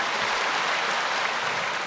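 Dense, steady applause from a church congregation, a broad continuous wash of clapping with no voices over it.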